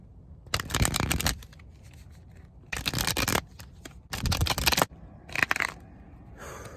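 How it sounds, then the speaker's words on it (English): A tarot deck being shuffled in four distinct bursts of riffling and rustling card noise, separated by short quiet pauses and light handling sounds. "Let's shuffle your deck"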